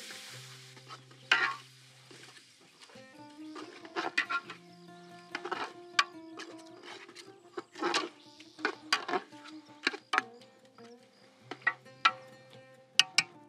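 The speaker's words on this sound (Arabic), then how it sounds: "الحين نحمس ونحرك عشان يتجانس معانا البهارات" Spices fry and get stirred in a pot over a wood fire: a soft, steady sizzle broken by irregular scraping and clacking knocks of the utensil against the pot.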